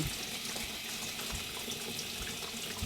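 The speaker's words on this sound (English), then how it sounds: "I'm going to add some water. And this will be our brine." Water runs steadily from a tap onto salt in a bowl to make brine for Korean cabbage and radish kimchi, a continuous close hiss and splash lasting the whole stretch with no talking.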